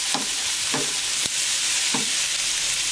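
Onions and peppers sizzle steadily in a hot pan, a constant bright hiss broken by a few soft knocks and scrapes of stirring.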